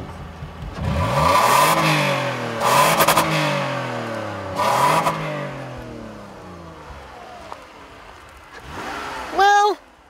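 A Toyota Highlander engine revs hard past 6,000 RPM in repeated rising surges from inside the cabin, each climb fading back down, with a brief chime-like tone near the end.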